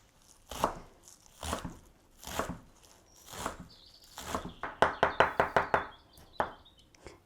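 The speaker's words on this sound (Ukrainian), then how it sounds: "Ось прям так і нарізаємо тонесенько дрібнесенько." A knife finely chops fresh dill and green onions on a cutting board, first with slow, evenly spaced knocks, then a quicker burst of about six crisp chops, close and clear with no talking.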